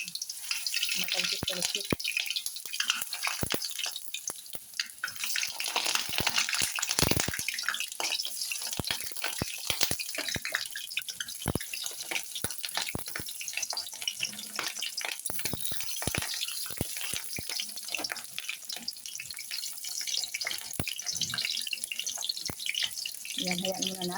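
Eggplant frying in a smoking-hot pan gives a steady, close crackling sizzle that runs the whole time, with someone speaking briefly over it.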